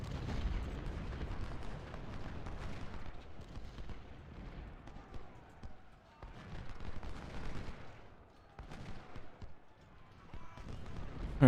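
Booming artillery fire from enemy gun batteries in the Civil War strategy game Ultimate General, rumbling in overlapping volleys with steady low battle noise throughout and brief lulls between bursts.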